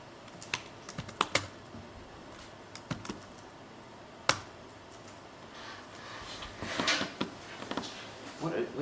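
People typing on computer keyboards in a room during a Fedora automation workshop, giving irregular clicky keystrokes and short bursts at close to moderate distance over steady room noise.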